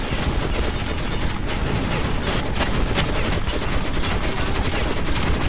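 Sustained gunfire in Metro 2033 Redux aimed at a vehicle driver, rapid repeated shots in a loud, unbroken burst that runs through the whole stretch with heavy rumble underneath.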